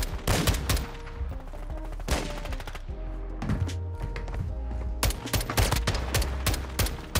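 Rapid bursts of automatic gunfire from a weak weapon in a Call of Duty Modern Warfare II match, sharp close shots in several loud volleys separated by brief pauses.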